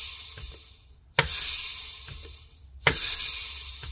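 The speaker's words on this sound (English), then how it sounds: "That's leakage past the seal rings." Compressed air hissing past the seal rings of a 4L60E transmission's clutch drums during a bench air check, a steady broadband hiss in two long bursts, each starting with a sharp onset and tapering off, with no talk.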